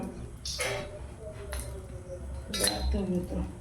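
A metal kadai is handled with a few sharp metallic clinks and clanks spread over a few seconds. The clinks are fairly faint and sit over low background noise.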